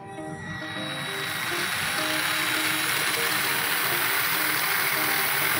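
The motor of a 24V electric ride-on car, run manually through an HH-2403K-24V controller, spins up into a steady, close electric whine with a faint buzzing undertone.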